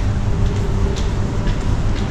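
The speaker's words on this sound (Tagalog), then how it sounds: "Dito na tayo sa may MRT, Somerset MRT." Ambient rumble inside Somerset MRT train station, a steady low drone of rail transport with faint passing noises and no speech.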